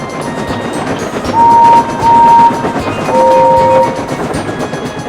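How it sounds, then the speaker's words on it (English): Henry the Green Engine, a steam train, rumbles along steadily while three sustained horn or whistle blasts sound over the running noise, the last one a two-tone chord. "Henry the Green Engine was delivering a train to Croven's Gate."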